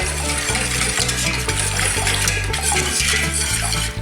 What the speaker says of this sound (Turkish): Malzemelerimizi iyice karıştıralım.